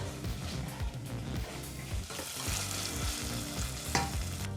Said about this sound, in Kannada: ಶುಂಠಿ ಬೆಳ್ಳುಳ್ಳಿ ಪೇಸ್ಟನ್ನು ಫ್ರೈ ಮಾಡ್ಕೋಬೇಕಾಗತ್ತೆ